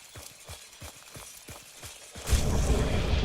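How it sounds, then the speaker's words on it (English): Horse hooves clop at a steady trotting rhythm in the distance in the Hunt: Showdown video game, then a dense rumbling wash of noise swells in and covers them. "I hear a horse in the distance."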